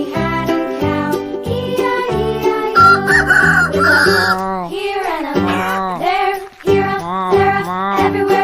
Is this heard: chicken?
yes